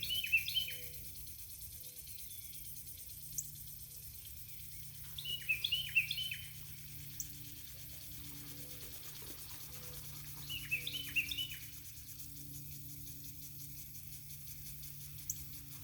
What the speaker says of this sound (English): Such a nice sound, listening to the water and the birds.